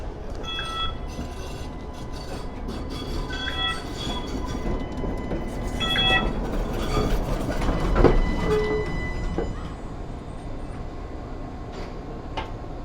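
A Mattapan trolley tram on Boston's MBTA Red Line rolls past on a summer evening, its steady wheel rumble and clatter rising and falling with brief high-pitched squeals over rail joints.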